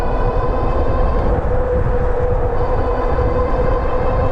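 Electric hub motor of a Birch Grolar AWD hunting e-bike running on throttle, a steady loud whine with a constant mechanical drone, close and unbroken throughout.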